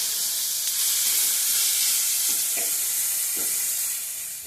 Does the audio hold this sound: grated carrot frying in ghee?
yes